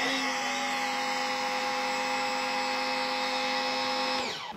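Active VE52 electric pressure washer running steadily with an MJJC foam cannon on auto mix, a loud continuous motor and pump whine with high spray hiss, held nearly constant before winding down at the end.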